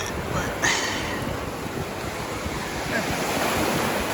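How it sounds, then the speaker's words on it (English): Surf washing onto a beach on a rainy day, a steady broad roar of breaking water mixed with rumbling wind noise across the microphone, with no clear individual wave crashes. "This really does feel like an ocean beach."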